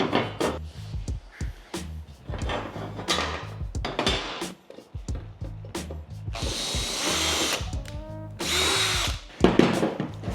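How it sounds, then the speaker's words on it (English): Power drill bores out bolt holes with a larger bit on a DIY floating Packout mount for a Toyota truck bed, whining in several sustained bursts between clattering tool handling and knocks, loud and close. "I feel like that drill bit was not big enough."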